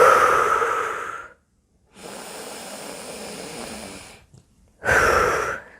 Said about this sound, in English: you can see my breathing's a little noisy today